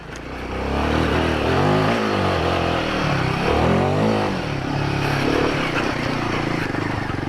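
A Royal Enfield Himalayan 450 adventure motorcycle pulling away in first gear on an off-road trail, its single-cylinder engine rising and falling in pitch through repeated loud, close revs.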